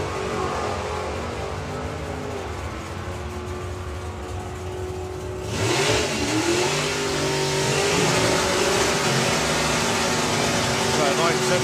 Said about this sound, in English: When he puts the gas on, that car can go into the mid-10s.